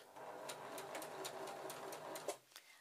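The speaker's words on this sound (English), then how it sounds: "We're going to run our gathering stitch along the bottom of the sleeve, so turn your stitch length to number 4 again and just go backwards and forwards to start." A sewing machine running a long gathering stitch along the bottom of a sleeve for a teal chemise dress, a steady close rhythmic whirr and needle clatter that stops abruptly near the end, with no talking.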